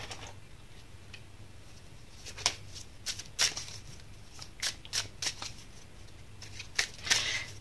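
Tarot cards are shuffled and drawn close up, with a scattered series of crisp riffling snaps and light flicks in irregular bursts over a quiet room.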